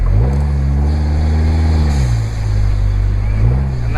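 A Vanderhall Venice Speedster pulls away in Monaco Monte-Carlo with a loud, close engine rising in pitch, easing off halfway through, then climbing once more.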